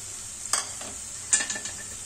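Onions frying with salt on a medium-low flame, a soft steady sizzle broken by two or three spatula stirs and scrapes, close and alone with no talking.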